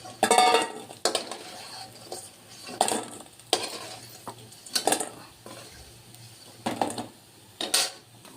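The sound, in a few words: fritters (bora) frying in oil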